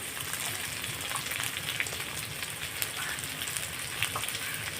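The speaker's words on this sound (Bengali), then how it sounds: "তারপরে আমি আর একটু সরিষার তেল অ্যাড করে দিলাম দিয়ে আমি মশলাটাকে আবার ভালোভাবে কষিয়ে নেব" Spices with turmeric and black cumin frying in mustard oil for a muri ghonto, a soft continuous sizzle with faint scraping of a spoon, fairly quiet and without talk.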